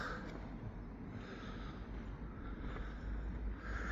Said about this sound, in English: It's a little windy path here.